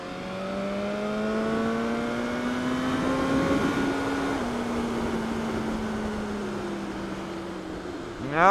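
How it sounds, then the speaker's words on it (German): BMW S 1000 R motorcycle engine held against its rev limiter during a test ride, a loud, close, sustained high-revving drone whose pitch wavers and dips slightly before a sudden burst at the end. "ist auf jeden Fall der Revlimiter noch drin, ja, weil die Einfahrinspektion offenbar noch nicht rum ist"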